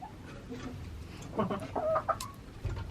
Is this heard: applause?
no